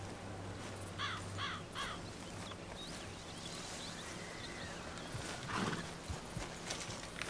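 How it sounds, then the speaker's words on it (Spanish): Horse hooves clip-clopping at a steady rhythm in the Red Dead Redemption 2 video game, moderately faint, with crows cawing and a brief whinny over a low outdoor ambience. "Vamos a montarnos en el caballo y nos vamos"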